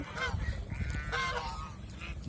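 Geese honking on a goose farm of egg-laying geese, a run of several nasal honks close by, fairly loud against a noisy background.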